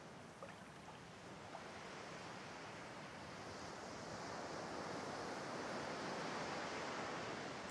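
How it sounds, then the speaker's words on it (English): Ocean waves lap and wash against a shore in a steady, swelling surf wash that grows slightly louder toward the end, set in the video game Divinity: Original Sin 2, with no speech. "A few tranquil moments pass as the waves lap against your thoughts."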